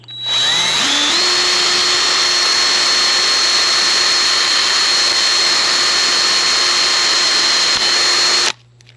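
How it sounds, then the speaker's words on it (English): A power drill bores through a 1/2-inch PVC pipe and T-fitting, a loud steady whine that spins up in the first second, holds an even pitch for about seven seconds, then cuts off. "when I drill this thing, I want to drill through the T-fitting and the PVC"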